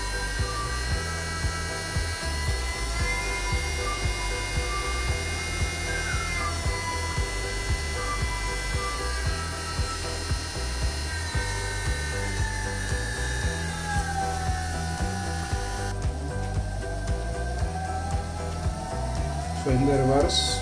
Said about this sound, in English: in the reverse mode we can accelerate step by step. Okay, and we can see the motor is rotating.